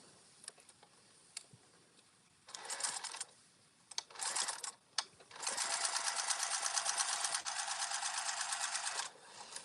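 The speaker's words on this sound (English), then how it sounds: "we are going to do our last line of top stitching" A sewing machine top-stitching folds, starting with a few short bursts of stitching, then one long steady whirring run before it stops, close and fairly quiet.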